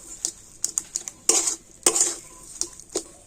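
Spiced potato filling with garam masala and chaat masala being stirred in a pan, heard as a series of sharp metal spoon scrapes and clinks against the pan, with two longer scraping strokes in the middle.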